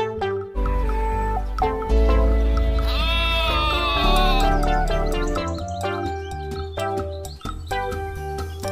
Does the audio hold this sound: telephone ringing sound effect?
no